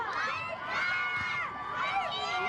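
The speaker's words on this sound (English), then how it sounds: "Cheerleaders really getting into it, trying to urge their third grade Dragon Black team on with some very, very big time cheering action on the sideline." Cheerleaders on the sideline at a third-grade youth football game shout and cheer continuously, loud and close, with high excited voices rising and falling in waves.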